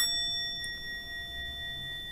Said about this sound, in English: I'm going to ring this little bell